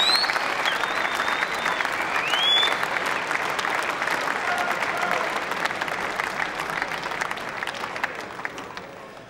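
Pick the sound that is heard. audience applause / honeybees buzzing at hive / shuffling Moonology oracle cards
audience applause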